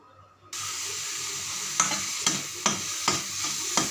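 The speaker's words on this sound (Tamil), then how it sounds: "இது மாதிரி நல்லா வதக்கிக்கணும்." Green leaves for a spicy chutney sauté in a hot pan with a steady, close sizzle, and a spatula scrapes and stirs them in several distinct strokes. No one speaks.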